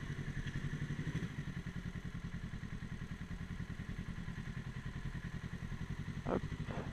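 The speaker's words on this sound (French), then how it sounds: "on est sur une petite Z650 de 2019" A 2019 Kawasaki Z650 motorcycle being ridden, its engine giving a steady, close, pulsing drone throughout, with a brief thud near the end and no talking.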